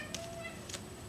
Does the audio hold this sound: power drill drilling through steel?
no